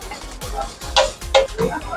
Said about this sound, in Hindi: ये डाला गया है पहले तो एग, और इसको बिल्कुल बीट किया जा रहा है एग्स को।